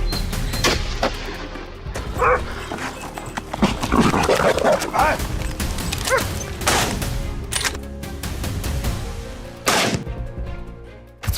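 Hunting dogs bark during a wild boar hunt in open hill country. Sharp repeated barks and bursts sound over a busy outdoor bed, with loud thumping impacts scattered throughout.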